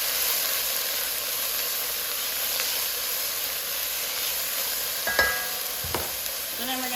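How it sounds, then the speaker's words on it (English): Broccoli and cauliflower for soup sizzle steadily in a hot pan, a constant frying hiss with a couple of spoon scrapes and clinks near the end as the vegetables are stirred. "I'm going to stir that around."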